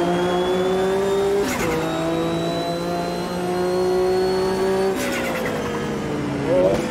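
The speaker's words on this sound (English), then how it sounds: "I got wheel spin again." A race car in Automobilista 2 sportscar racing, engine screaming at high revs with rising pitch sweeps, dropping abruptly at gear shifts around a second and a half and five seconds, loud and close.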